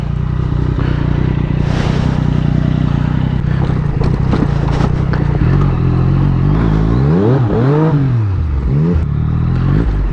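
Yamaha FZ-09 motorcycle pushing along an off-road trail, its engine droning loud and steady, rising and falling with throttle changes amid bumps and clatter close by.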